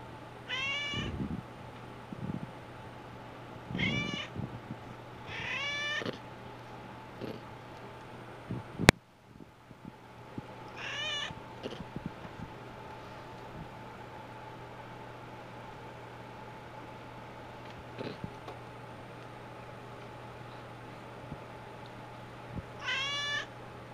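A cat meowing indoors, several distinct rising meows spaced across the stretch, some in quick pairs, close and clear over a steady low hum, with a sharp thump partway through.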